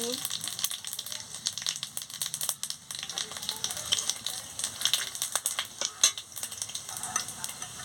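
Dry red chillies and whole spices hit hot oil in a pan, sizzling and crackling steadily with scattered sharp pops and light stirring scrapes, close and moderately loud throughout.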